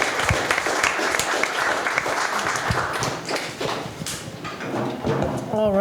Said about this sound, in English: a round of applause for Marco